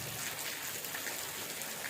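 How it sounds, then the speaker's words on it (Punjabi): Heavy rain pouring down in a village, a dense, steady hiss of drops striking surfaces, even and unbroken throughout with no voices. "ਵੇਖ ਲਓ ਬਾਰਿਸ਼ ਹੋ ਰਹੀ ਹੈ"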